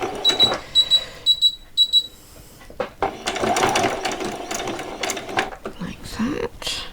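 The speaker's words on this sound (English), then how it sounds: "just going to stitch right across those two pieces. Okay, we're going to do a few back stitches." Sewing machine stitching Christmas pyjama pieces, with short beeping tones at the start followed by a run of rattling mechanical stitching, close and moderately loud, with some talk in the background.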